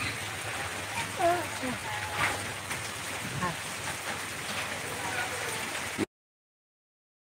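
Steady rain falls through a wet morning, a dense even hiss with scattered drop patter that holds for about six seconds before cutting to silence.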